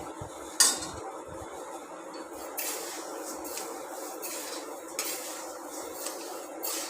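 Rice being stirred as it roasts in a pan over a low gas flame until brown: soft, continuous scraping with occasional light clinks, fairly quiet and close, with no talking.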